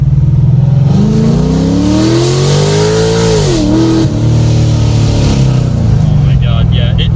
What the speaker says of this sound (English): I'm in first, gonna probably bring it up right around 20 and then hit it.